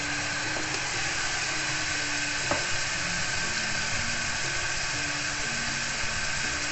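Minced meat for a homemade skillet pizza sizzling in a nonstick pan, a dense, continuous frying hiss with faint stirring scrapes and one sharp clink midway.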